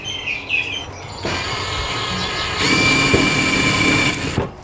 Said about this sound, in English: I just have to drill it in the middle until the little rivet cap comes off.